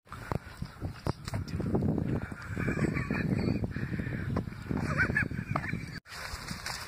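A flock of birds honks and squawks in a busy, overlapping chorus, with some shuffling movement nearby and a brief pause near the end.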